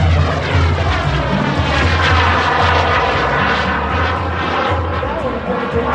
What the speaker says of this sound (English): performing at air shows in his jet-powered Super Salto sailplane